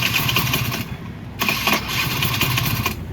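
A carbureted Honda Baja motorcycle engine with a 44 mm bore starts up and runs rough and loud nearby, with a brief dip partway through before it keeps chugging.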